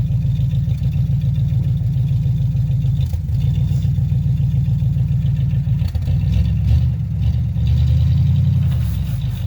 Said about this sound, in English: Did they spin? Oh yeah. Just this one. Little bit of a burnout.